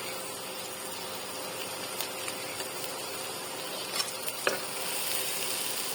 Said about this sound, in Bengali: আমাদের সবজিটা ভাজা হয়ে গেছে,